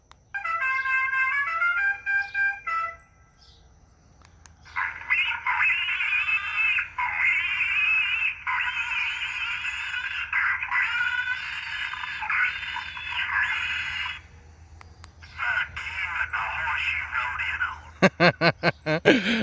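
A loud Boom Blasters wireless electronic horn sounds a different tone pattern: short bursts, a pause, then long sustained warbling blasts, ending in a few rapid pulses.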